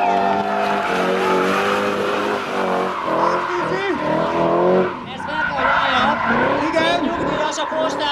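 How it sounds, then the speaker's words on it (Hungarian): A BMW E30 344i V8 race car screams through a handbrake turn at a 2007 Hungarian hill-climb qualifier, its tires squealing and the V8 revving hard. An excited commentator talks loudly over it the whole time. "V8 hangja mindenki számára egyértelmű. Nagy kézifékkel!"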